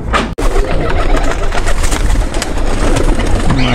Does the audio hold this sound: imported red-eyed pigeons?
yes